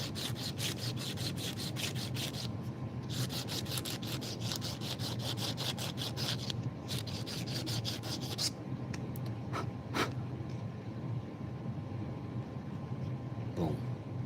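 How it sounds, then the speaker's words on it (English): Sandpaper rubbed back and forth on a small wooden mallet, a close rapid rasping rhythm of dense strokes that goes on steadily and then slows into a few scattered scrapes. "Now we at the sandpaper stage. We're going to take off so little."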